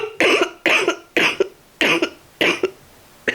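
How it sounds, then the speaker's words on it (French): Someone coughs in a fit of about six harsh, close bursts, spaced at a steady rhythm and each followed by a short trailing rasp, with no talk over them. "ça j'ai encore des quintes de toux"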